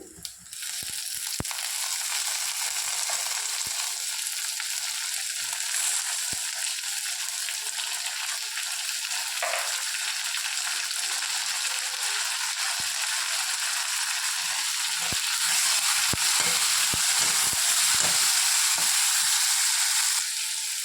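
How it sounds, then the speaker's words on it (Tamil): Ingredients are sautéed in a little oil for a South Indian kuzhambu, giving a continuous close sizzle broken by occasional scrapes and clicks of stirring. "கொஞ்சம் எண்ணெயில் வதக்கிக்கோங்க"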